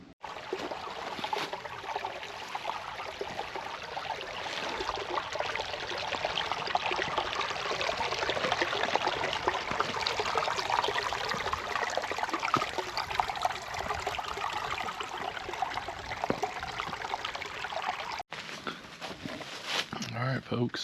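A creek runs through rocky ground at Garden of the Gods, making a steady broadband rush and trickle that continues for about twenty seconds and fades briefly near the end, with a person talking over the water.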